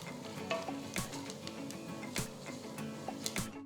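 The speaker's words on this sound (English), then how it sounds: "add a few raisins and roast them till they're all plumped up" Raisins, cashews and coconut pieces roasting in a pan give a steady close sizzle, broken by sharp clicks and scrapes of a spoon stirring them around.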